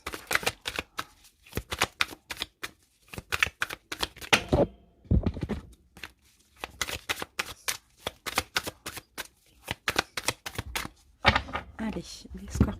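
A tarot card deck is shuffled and cut up close, giving rapid crisp riffles and flutters in quick bursts with brief gaps, with occasional quiet talking in between.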